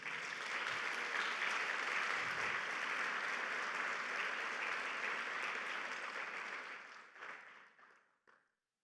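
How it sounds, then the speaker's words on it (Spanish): Church congregation clapping loudly and continuously in a dense, sustained wave of applause that fades out near the end, with a few last claps trailing off. "Dale un fuerte aplauso al Señor."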